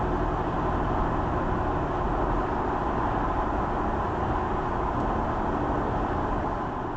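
A BMW F80 M3 on the move, picked up inside the cabin by a dash cam's built-in mic: a steady, unbroken rumble of engine and road noise at even loudness throughout, with no talking.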